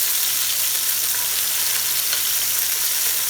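Chicken shawarma pieces sizzle and spit steadily as they fry in a hot pan, a dense, continuous crackle close up with no talking.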